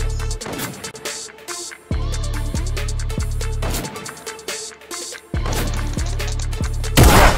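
Rapid bursts of video-game gunfire from Fortnite repeat across the clip in several volleys, loud and close, with heavy low booms and a sharp final blast.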